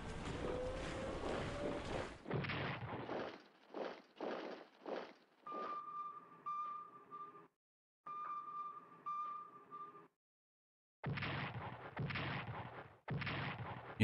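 Heavy artillery fire in the World War II strategy game Strategic Command WW2, a sequence of booming blasts and rumbling bursts with short gaps and a sustained tone in the middle, ending with more loud bursts.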